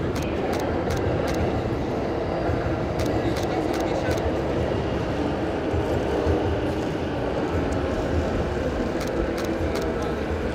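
A train rolls past in the Red Light District with a steady, broadband rumble and rattle, continuous and fairly close, running the whole time without breaks.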